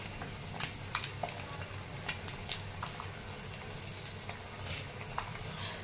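An egg omelette seasoned with black pepper, salt, red chili and coriander fries on one side in a pan for anda ghotala. A steady, soft sizzle runs throughout, dotted with small crackles and pops.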